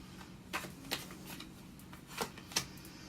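Tarot cards being shuffled and drawn, a handful of soft, brief papery flicks and snaps spaced irregularly, close and quiet over a faint background hiss.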